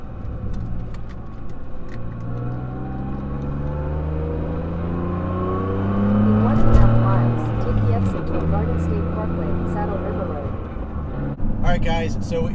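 A BMW F80 M3 fitted with a short shift kit revs through the gears, its engine note rising and falling with a steady drone and a louder surge midway, heard from inside the car.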